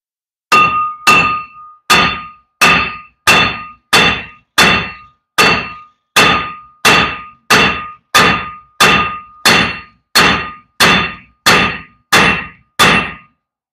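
Sixteen sharp metallic clangs from a hammer striking a stuck brake rotor on a 2006 Chevrolet Colorado, evenly spaced at a steady rhythm, loud and close, each with a short ringing decay.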